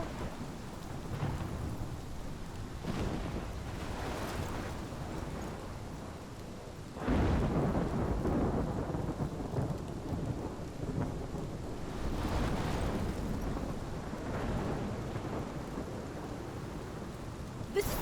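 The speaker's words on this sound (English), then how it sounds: "This is my storm." Storm in the video game Life is Strange: steady heavy rain with low rolling thunder swelling in several long rumbles, two of them loud and near, no talking.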